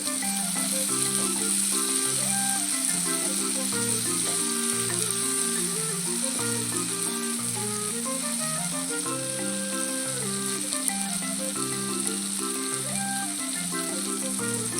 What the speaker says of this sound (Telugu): అటు ఇటు తిప్పుతూ మనము ఈ వంకాయని ఫైవ్ మినిట్స్ వేయించుకోవాలి